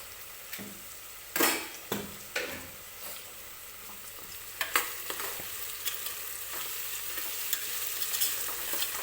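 Onion frying in oil in a pan for mutton biryani, a continuous sizzle punctuated by several sharp spoon scrapes and knocks against the pan, close and moderately loud.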